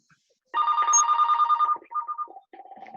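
A telephone rings loudly in bursts of electronic trilling with short gaps, cutting into a screencasting tutorial; no one speaks over it.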